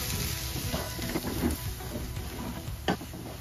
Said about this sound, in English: I've allowed the masalas to fry for at least a minute with the onions.